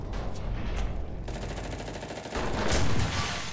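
Gunfire in the WW2 video game Enlisted: a few sharp rifle shots crack nearby, followed by a louder, denser burst of shooting near the end over a low battlefield rumble.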